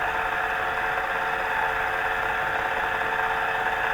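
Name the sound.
homemade guitar pickup winder motor spinning at 1,000 RPM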